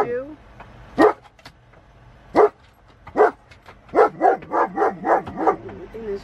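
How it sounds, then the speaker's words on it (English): A dog barks in a few loud, separate barks, then a quicker run of yips, close by, with the background otherwise quiet. "this is what she's barking at"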